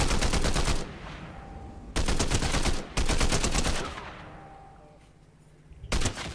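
Bursts of loud automatic gunfire in the video game Fortnite, three long volleys of rapid shots separated by brief fading gaps, with a final short burst near the end.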